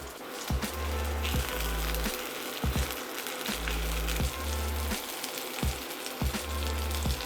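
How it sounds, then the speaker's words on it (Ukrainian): Garlic and hot pepper fry in oil in a pan for shakshuka, a constant bright sizzle broken by repeated stirring scrapes and knocks at a roughly regular rhythm, close up. "на пательню часник і гострий перець. Буду їх недовго смажити, постійно погортуючи"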